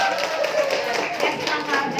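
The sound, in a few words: audience clapping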